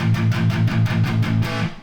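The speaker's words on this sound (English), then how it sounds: "And so palm muting gives you this sound like this." Punk electric guitar strummed with palm muting, a fast even run of about a dozen chugging, subdued down-strokes, loud and close with no voices.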